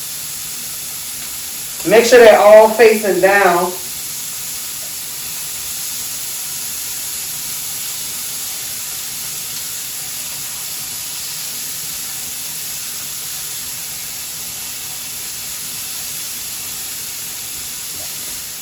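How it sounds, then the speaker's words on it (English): Chicken and shrimp sizzle in canola oil in a pan, a steady close hiss that runs throughout after a short spoken instruction near the start. "Y'all can hear them sizzling."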